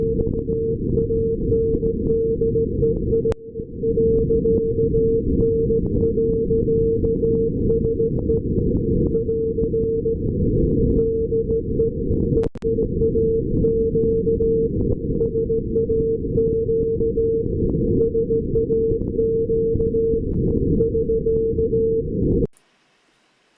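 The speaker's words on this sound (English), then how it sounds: "that's the very end of the transmission after the Christmas message in Morse" Morse code on the Grimeton SAQ 17.2 kHz Christmas transmission, received through a narrow filter: a steady keyed tone in long and short elements over constant static, with a couple of brief breaks, stopping near the end.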